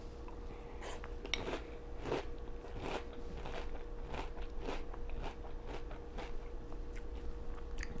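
Someone bites into and chews chocolate right at the mic, making a quiet, close series of repeated crunches and crackles at an irregular pace.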